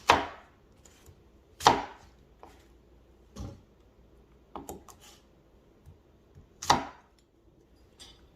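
Knife chopping through apples on a cutting board for homemade apple cider vinegar, a handful of sharp, separate chops spaced a second or so apart, close and clear, with a few softer taps in between.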